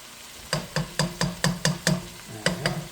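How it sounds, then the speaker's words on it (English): Tomato paste is stirred into a ground beef stew with fire-roasted diced tomatoes, making about nine rhythmic scraping strokes against the pot, close and distinct, with a brief pause before the last two. No one speaks. "And we'll give that a stir."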